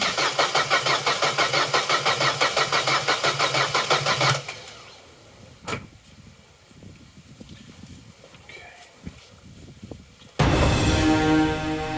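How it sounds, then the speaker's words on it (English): A Vauxhall Corsa B engine cranks steadily for about four seconds with a rhythmic pulsing churn, then stops; after a quieter stretch with faint clatter, the engine catches and runs loudly near the end. "You watch the fucking thing, I'll go and start now."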